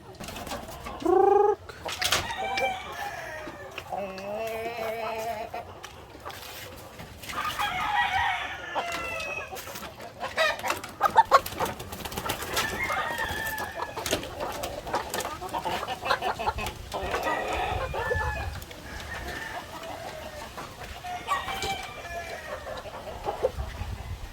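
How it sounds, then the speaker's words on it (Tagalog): Older black Australorp chickens on a farm, clucking and calling close by in a busy, overlapping chorus, with a rooster crowing and other birds chirping around them. "So ito yung mga matatanda nating black austral mga ka-farmers."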